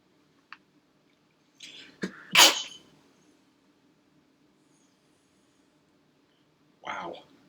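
A single loud sneeze bursts out close up, preceded by a short breathy intake and followed a few seconds later by a softer sniff or breath, with quiet room tone between.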